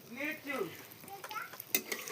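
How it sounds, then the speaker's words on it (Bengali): Soft sizzling of oil as pitha cakes fry in a pan over a stove at night, with the scrape and clink of a utensil stirring, quiet and close. "এই যে তেল পিঠা ভাজছি"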